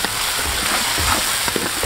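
Bean paste stir-frying in a small amount of hot oil, giving a dense, steady crackling sizzle with faint scattered pops throughout.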